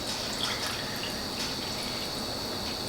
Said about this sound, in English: And then last, 6 tablespoons of water.